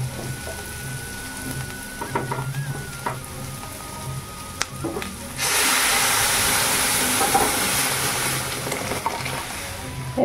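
Whole spices sizzle sharply into simmering mixed lentil dal of masoor, mung, chana, arhar and pea lentils, a sudden loud, dense hiss that bursts in midway and keeps crackling to the end after quieter kitchen clatter.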